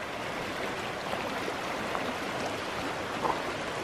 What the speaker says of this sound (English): Give another shot of the creek here